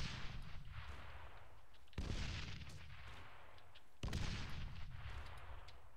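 Three heavy booming gunshots or blasts from an Arma military video game, Operation Kunduz Incursion, land about two seconds apart. Each one is sharp and loud and trails off into a rumbling decay.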